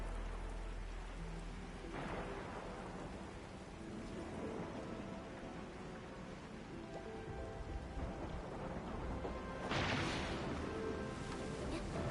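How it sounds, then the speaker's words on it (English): Heavy rain pours steadily in Arknights: Endfield, a dense wash of falling water with two louder rumbling swells like distant thunder. "It's raining harder. I can't hear anything except for the rain."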